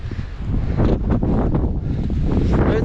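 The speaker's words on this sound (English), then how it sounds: "It is windy." Strong gusting wind on Grandfather Mountain buffets the microphone, a loud low rumbling roar that rises and falls in heavy gusts throughout, with no voices.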